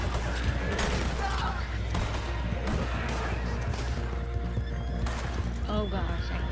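A horse whinnies loudly among gunfire and thuds in Red Dead Redemption 2, with hooves clip-clopping and voices talking over the busy mix.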